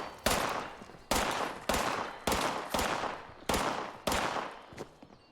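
Gunfire in Fallout 76: seven separate sharp shots with ringing tails, spaced about half a second to a second apart, loud and close with no talking.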